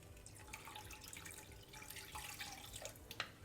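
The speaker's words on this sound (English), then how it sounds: "Add in 800 milliliters of water." Water is poured into a pot while making pen cai, a Chinese New Year treasure pot dish, giving a faint, steady trickle with a few small splashes and drips in a quiet kitchen.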